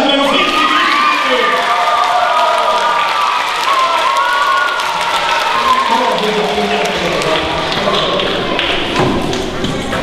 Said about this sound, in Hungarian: Tapsolják meg a férfi!